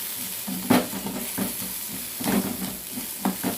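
Small onions sautéing in a pan for a country chicken curry, with soft sizzling and stirring scrapes that come in a few louder bursts, close and fairly quiet, with no talking.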